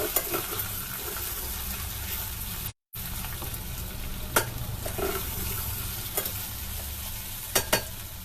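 Sabzi with a slurry in a pan gives a steady, loud sizzle with frying hiss, broken by a brief silence and occasional sharp scrapes of stirring, close by.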